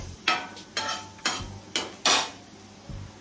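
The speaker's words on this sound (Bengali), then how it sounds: "পনিরগুলো দিয়ে এইভাবে নাড়াচাড়া করে" Paneer cubes being stirred in a pan for garlic butter paneer: five or six crisp scraping strokes of a spoon against metal, close up, with a faint sizzle underneath.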